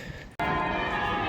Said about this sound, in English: you can hear in the background the bells of Bristol Cathedral